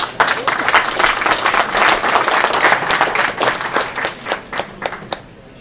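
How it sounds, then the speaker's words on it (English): A tech event audience gives a loud burst of applause as panelists come out, dense clapping and some crowd noise that thins into scattered claps near the end. "Let's have a round of applause for our panelists."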